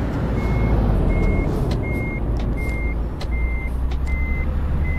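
A heavy truck in a multiplayer truck-driving game on a Dover to Duisburg run gives a low, steady engine rumble under about seven evenly spaced, high reversing beeps.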